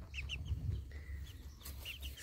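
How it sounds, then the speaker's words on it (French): Hens and young chicks clucking and chirping while dust bathing in soil, with scattered short calls and soft scratching, near and low in volume. "je dis les poules elles se roulent dans la terre"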